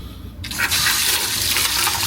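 Water bursts from an RV shower while it waits for hot water: after a brief quiet start, a loud, close, steady hiss of running spray that continues to the end, with no talking.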